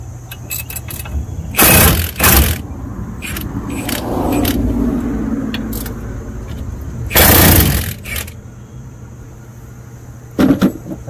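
Milwaukee power tool breaking wheel nuts loose on a Teryx 4 800, two loud bursts of hammering rattle separated by quieter workshop noise, with a short third burst near the end.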